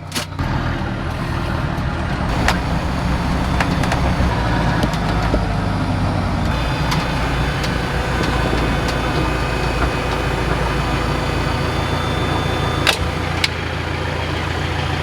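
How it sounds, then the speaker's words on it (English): A farm loader's engine runs steadily, idling and rumbling close by at a constant level for the whole stretch while it is readied to move to a gravel pit to haul fill for a new shop, with occasional clicks and knocks. "I'm going to help Dad move a loader over to the gravel pit, our gravel pit"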